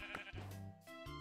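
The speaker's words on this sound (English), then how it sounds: "A brown sheep." A brown sheep in the video game Minecraft gives one or two short bleats at close range, with no talk over them.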